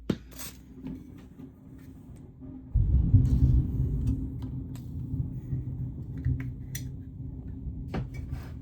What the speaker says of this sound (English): We have a big storm going on out there.